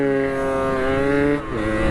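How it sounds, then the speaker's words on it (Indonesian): A Kawasaki Ninja motorcycle throttling up on a Sunday morning ride, its engine a steady, loud, close drone that holds a high pitch, then dips briefly and climbs again. "Langsung dia gas."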